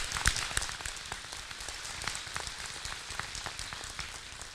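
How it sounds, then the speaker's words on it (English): An audience applauds elected officials at a State of the City event: dense, steady clapping from many hands, continuous and fairly even, with no voices over it. "So how about a round of applause for elected officials?"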